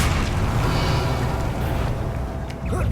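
A Bombarda blast in Hogwarts Legacy during a duel with Rookwood: a loud, sustained rumbling boom with crackling debris that fills the whole moment and tapers slightly near the end.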